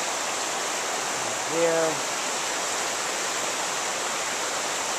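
Steady broadband rush of the White River flowing near Silver Springs Campground close to Enumclaw, Washington, continuous and fairly loud throughout, with a short spoken word rising briefly over the water noise.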